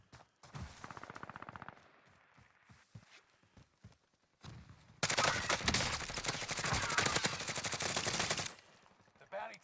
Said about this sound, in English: Now he's shooting at somebody lower.